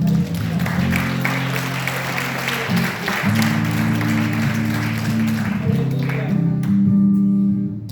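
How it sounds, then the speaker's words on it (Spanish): A congregation at a revival church service in Panama breaks into sustained applause, loud and continuous over sustained organ-like music tones. "Un aplauso al Señor."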